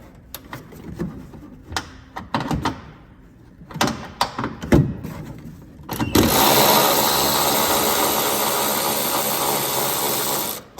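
A power tool spins briefly and then runs steadily while removing a bolt at the rear bed of a 2022+ third-generation Toyota Tundra, preceded by scattered clanks and taps of handling parts.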